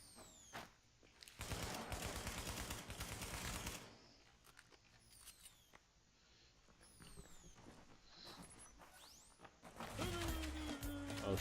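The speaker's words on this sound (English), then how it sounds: "That turret is fucking annoying." An automated turret in Tom Clancy's The Division fires in sustained bursts of rapid gunfire, loud and near, broken by quieter stretches of scattered shots, clatter and game effects.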